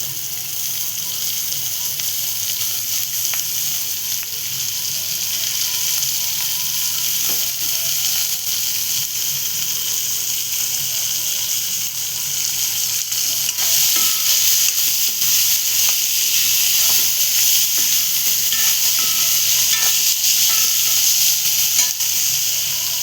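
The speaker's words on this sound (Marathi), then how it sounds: "आता आपण तोंडली टाकतो." Thinly sliced ivy gourd (tondli) sizzling steadily in a hot pan for an Alibag-style vegetable dish, a continuous loud crackling fry with occasional scraping stirs and no talking.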